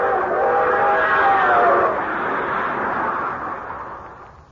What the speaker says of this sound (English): the long, drawn-out whistle of the 20th Century Limited as she highballed it through the countryside